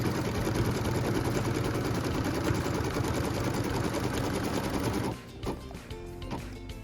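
A sewing machine stitches quilt fabric in a continuous, rapid mechanical chatter, close and steady for about five seconds before stopping abruptly, followed by faint handling sounds.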